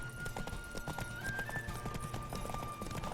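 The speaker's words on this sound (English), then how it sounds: "That's the horse." The horse Roach gallops in The Witcher 3, with rapid rhythmic hoofbeats running steadily under game ambience and a faint sustained tone.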